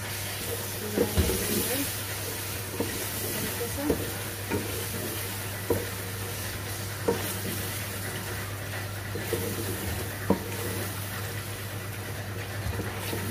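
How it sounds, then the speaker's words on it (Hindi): Keema and potatoes frying in a pan, a constant hiss of sizzling oil over a low hum, with periodic scraping knocks as the mix is stirred and turned. "तो हम इसे पाँच मिनट तक भूनेंगे अच्छे से"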